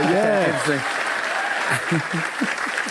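Crowd applause and cheering at a political gathering, a steady wash of clapping with whoops and shouted voices rising over it near the start and again toward the end.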